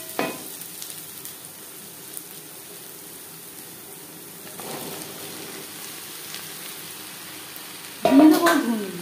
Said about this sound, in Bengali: পেঁয়াজ ভেজে নেওয়ার পর দিয়ে দেব 8-9টা চেরা কাঁচা লঙ্কা।